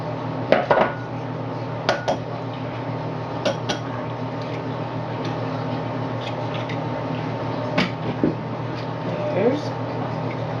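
An egg is cracked and dropped into a bowl while making banana chocolate peanut butter muffins, giving a few sharp clinks and taps against the bowl amid kitchen clatter and a steady background hum, with someone talking nearby.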